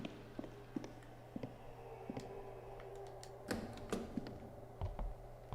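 Typewriter keys pressed in the horror game White Day Remake, a quiet series of irregular clicks and taps, some in quick pairs, close up over a low hum.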